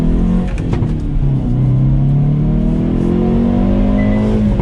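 A 2022 Hyundai Veloster N engine pulls through a turn on a mountain road, its note rising and falling as the driver works the throttle, loud and close from inside the car.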